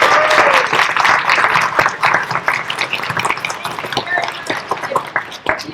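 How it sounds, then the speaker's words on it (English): Loud audience applause at an indoor community youth event, a dense burst of many hands clapping that thins into scattered claps and fades toward the end. "let's applaud them and give them positive"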